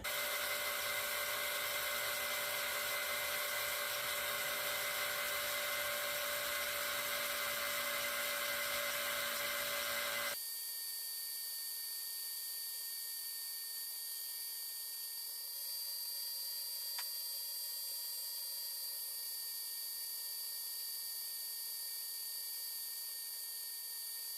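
A drill press bores into a steel blank to make a golf ball dimple die, the workpiece set on a block. A steady high whine runs throughout, louder and rougher for the first ten seconds, then a thinner tonal hum with no talk.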